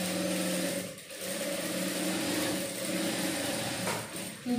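A sewing machine stitches fabric in a tailoring class, running as a continuous, fairly loud mechanical whir with a few brief slowdowns and no talking.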